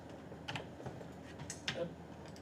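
Keyboard keys tapped while entering 20% into an Excel cell, a few quiet scattered clicks at close range against a low room hum, with no talking.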